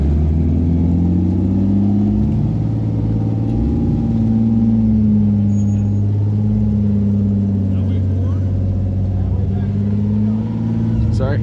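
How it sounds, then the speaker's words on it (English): A rock crawler's engine on a King of the Hammers trail, a loud steady drone with rising and falling revs close by, with voices talking over it. "Easily distracted by the sound of horsepower."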